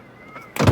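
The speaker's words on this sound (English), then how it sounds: "Slide and tilt center row seats." A brief mechanical clunk and shuffle near the end as a 2025 Lincoln Aviator's second-row seat slides and tilts, following near silence.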